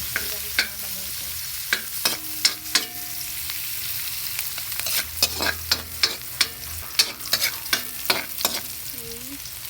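Garlic and onion sauté in a pan, a crisp sizzle broken by repeated scraping strokes of a spatula in quick irregular bursts, close and clear with no talking.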